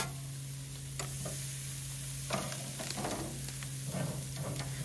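Meat searing on a grill at a rainy deer camp, with sweet corn cooking alongside, giving a steady close sizzle and crackle with occasional scraping and stirring sounds.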